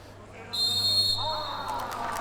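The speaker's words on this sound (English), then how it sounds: "Whistle goes." A referee's whistle at a strongman competition gives one loud, sharp, steady blast lasting about half a second, over crowd noise and commentary.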